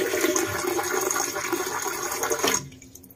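A hotel toilet in Japan flushes loudly with a rushing torrent of water for about two and a half seconds, then cuts off abruptly into quiet.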